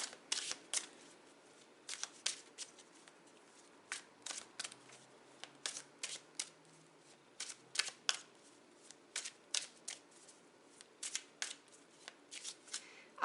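Tarot cards being shuffled by hand: a steady run of crisp, close riffling bursts at an uneven rhythm, with no talking.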